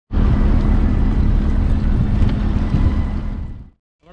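A houseboat on the Alappuzha backwaters in Kerala drawing in toward the bank, a loud, steady wash of engine and wind noise that runs unbroken for several seconds, then cuts off abruptly.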